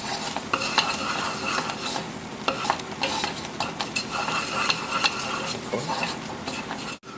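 Frothing caramel with baking soda, stirred off the heat for popcorn: continuous close scraping and bubbling with spoon clinks against the pot, no talking.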